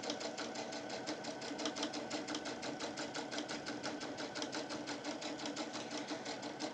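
Sewing machine stitching a charm square bag, a fast steady mechanical chatter running unbroken, close and moderately quiet, with no talking.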